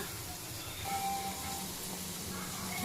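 Ingredients for a village-style avarekalu sambar sizzle in a pan, giving a steady, close frying hiss that swells slightly partway through and never stops.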